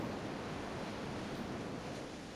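A large waterfall in Grandia II roars as a steady, dense wash of rushing water, loud and unbroken from start to end.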